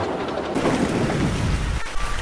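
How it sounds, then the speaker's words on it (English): Steady rain pours down in a dense, hissing wash, with a low rumble underneath and no voices. "It started to rain."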